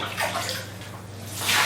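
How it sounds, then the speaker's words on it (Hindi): Cold water scooped from a bucket with a mug and tipped out, splashing and sloshing briefly in two short pours, close by. "2-3 मग बाहर निकाल कर फेंक दें"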